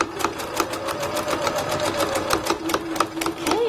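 A sewing machine stitching a jeans-fabric hair elastic, a close rapid mechanical needle clatter running continuously with a slight speed change near the end, no talking.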